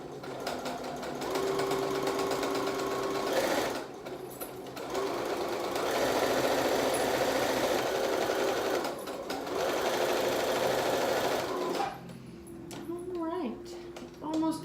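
A sewing machine stitches a shirt seam in long steady buzzing runs with short pauses between them. A voice talks faintly near the end.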